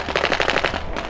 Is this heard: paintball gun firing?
yes